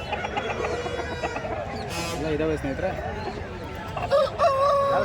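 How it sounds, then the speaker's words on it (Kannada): Roosters crow and hens cluck among the many breeds at a large poultry market, with crows rising near the end, while someone talks over the steady crowd din. "ಹಲವಾರು ಜಾತಿ ಹುಂಜ ಕೋಳಿಗಳು"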